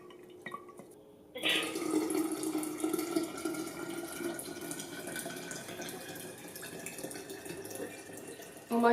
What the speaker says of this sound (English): No, I'm pouring in the tea.